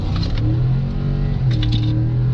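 A 2019 Ford F150 truck with the 5.0L engine accelerates hard in third gear, its engine note a loud, steady, close roar that climbs in pitch through the run.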